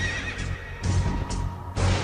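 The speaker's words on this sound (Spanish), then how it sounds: "Y vi aparecer un caballo pajizo, cuyo jinete se llamaba Muerte." A horse neighs loudly and close, with repeated whinnying bursts over a low rumbling bed that hints at hoof clip-clop, and no speech.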